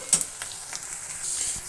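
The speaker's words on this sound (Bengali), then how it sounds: "এটা একটু ভাজা ভাজা করে নেবো আমি" Spices frying in a pan, a soft continuous sizzle with a few faint stirring scrapes near the start, quiet and steady with no voices.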